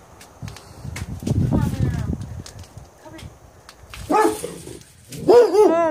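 A protective dog at a house barks and yips in several bursts, fairly close, mixed in with people talking and footsteps.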